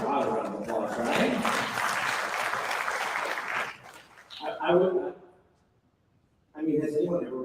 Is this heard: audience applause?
yes